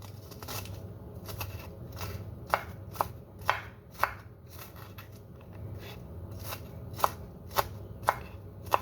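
Onion is chopped finely with a knife on a cutting board, a series of crisp, close taps coming irregularly at first and then in steadier clusters, each cut sharp and distinct over a quiet background.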